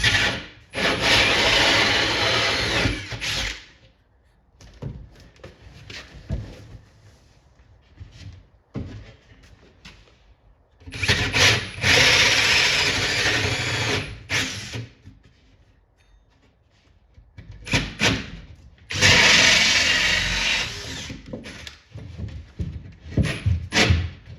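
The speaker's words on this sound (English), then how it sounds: "Drill these 4 holes out on this bottom part" Holes are drilled through the bottom part of a multicade cabinet, three loud bursts of grinding, rasping drill noise separated by quieter gaps of handling and small knocks, close by.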